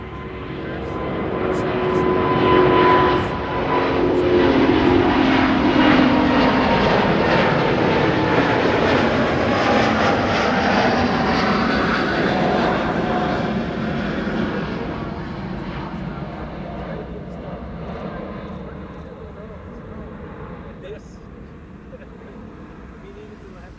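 Finnair Airbus A350 jet taking off from Amsterdam Schiphol, a loud, broad engine roar that swells early and then slowly fades as it climbs away, with people talking over it.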